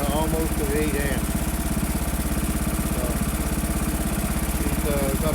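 An old tractor's engine idles steadily nearby with a constant low throb and pulsing vibration, while a voice talks intermittently over it.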